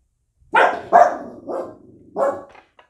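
A female dog barking at a passing garbage pickup, four sharp, close barks in quick succession with short pauses between them, alone without talk.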